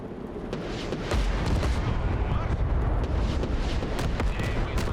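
Heavy battle noise from the Broken Arrow war game, with an enemy tank's cannon fire booming among dense rumbling explosions and sharp cracks, loud and continuous with no clear talk.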